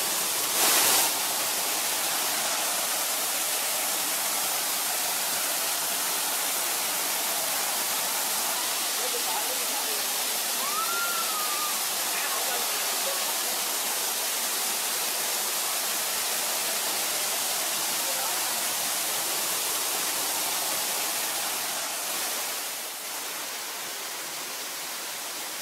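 A mountain stream at Prenn Pass in Da Lat throws a fine drizzle-like spray, heard as a steady, loud, broadband rush of water that fills the whole stretch and eases slightly near the end, with occasional speech nearby.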